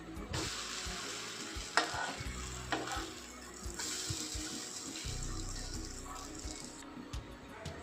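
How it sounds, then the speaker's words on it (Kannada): French toast fries in a pan with a continuous close sizzle, broken by scraping and tapping as the slices are stirred and turned, with no one talking. "ಒಂದು ಸೈಡ್ ಫ್ರೈ ಆದ ಮೇಲೆ ಇನ್ನೊಂದು ಸೈಡ್ ಟರ್ನ್ ಮಾಡಿಕೊಳ್ಳಿ"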